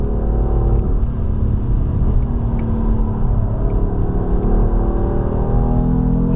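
A 2016 BMW M3 engine pulls hard on the Nürburgring Nordschleife, a loud, steady in-car rumble and rising drone as the car accelerates, with no talking.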